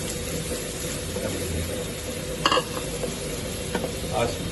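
Amla and onion frying in coconut oil over a lit flame give a steady, close sizzle throughout, with a few brief stirring scrapes of a utensil in the pan.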